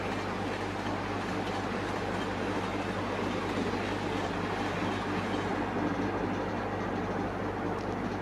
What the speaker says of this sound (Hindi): ये किंग राजधानी है क्योंकि ये भारत के दोनों सबसे बड़े शहरों के दरमियान चलती है